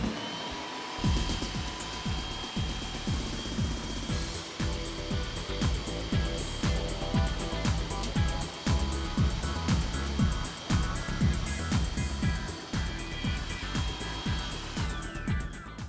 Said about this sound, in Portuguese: Vamos vou ligar lá, então. A batedeira